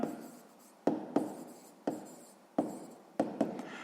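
Pen writing by hand on paper while working a sixth-grade maths exercise, a series of close, soft scratchy strokes starting roughly every half second to second, with no talk.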